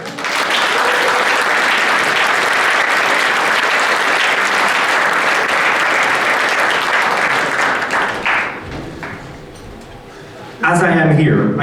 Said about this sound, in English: Please give a random round of applause for our internet helpers